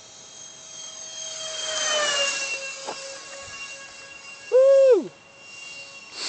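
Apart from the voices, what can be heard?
Banana Hobby A-10 64mm foam RC jet airplane flying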